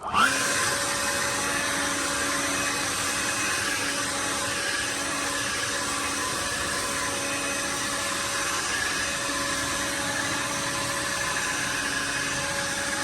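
Kobalt 40V backpack leaf blower running at full power, a loud, steady whirring whine held without pause from start to finish, close by.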